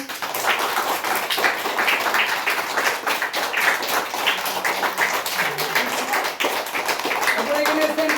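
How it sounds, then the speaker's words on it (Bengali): A group of children clapping their hands together at a gathering, dense rapid claps going on throughout, with voices and chatter mixed in underneath. "হাততালি দিয়ে সবাই।"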